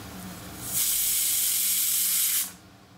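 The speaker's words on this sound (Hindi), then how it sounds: "इसको ऐसे ही छोड़ दूँगा ताकि प्रेशर अपने आप निकल जाए कुकर की" A pressure cooker holding mutton vents steam in one loud, continuous hiss lasting under two seconds, starting and stopping sharply, with quiet kitchen background before and after.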